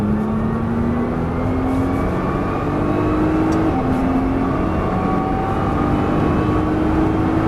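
A Nissan GT-R accelerates around a race track, its loud engine note climbing in pitch through several gear changes, each marked by a short dip before it rises again. The engine is close and continuous, with no speech over it.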